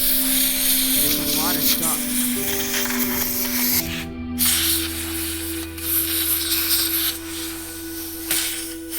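Short hissing bursts of cleaner sprayed onto a PS4 console, close and fairly loud, with a person speaking briefly over the handling noise.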